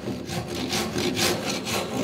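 Hand saw cutting an oak dowel flush on a staircase, quick rhythmic rasping strokes, close and steady, about four back-and-forth passes with no talking.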